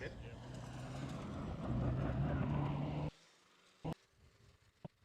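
Race car climbing the hill at the Ben Nevis hill climb, a car close to road spec; its engine note drones steadily at a distance for about three seconds and then cuts off, followed by a few faint clicks.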